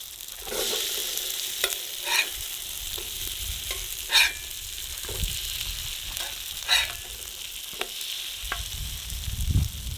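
Corned beef fritters frying in a pan over an open fire outdoors, a steady crackling sizzle with several sharp scrapes and knocks as they are turned.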